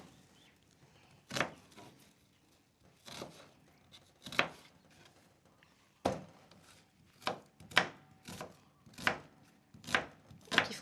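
A knife chops an onion on a board in a series of sharp, distinct strikes, irregular at first and then settling into a steadier rhythm, close and fairly loud with no talk over them.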